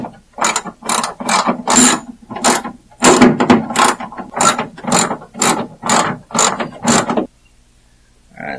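A hand ratchet lightly tightening bolts on a Scion tC trunk hatch handle, a dozen or so loud close clicking bursts in a steady rhythm, then silence.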